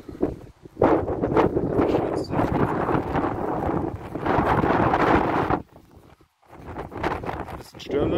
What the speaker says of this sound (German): Bisschen stürmisch hier.